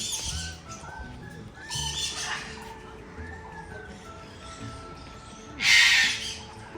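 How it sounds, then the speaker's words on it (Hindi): A macaw gives a few loud, harsh squawks, the strongest one near the end, over a low murmur of background noise at a zoo. "दुनिया का सबसे बड़ा तोता है मकाऊ। इसकी आवाज़ इतनी तेज है।"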